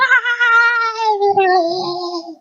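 A cat behind a window lets out one long, loud, drawn-out meow that wavers in pitch, close and alone.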